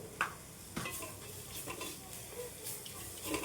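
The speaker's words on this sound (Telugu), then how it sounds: "ఇది కొంచెం ఆకు కూడా మంచి స్మెల్ వచ్చేంత వరకు వేగించుకోవాలి ఈ విధంగా." Ajwain (carom) leaves frying with a little salt in a pan over medium flame, stirred by a spoon: soft steady sizzle with a few sharp scraping clinks, close and fairly quiet, no talking.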